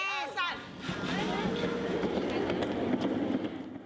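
A train carrying kindergarten children gives a steady, moderately quiet rolling rumble with faint rhythmic clatter, and children's voices can be heard early on.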